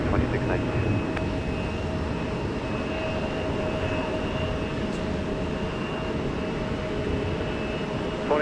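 A Delta airliner taking off from runway 30 left at Minneapolis–St. Paul airport, a loud continuous engine roar with steady tonal whine held throughout, distant rumble dominating without letup.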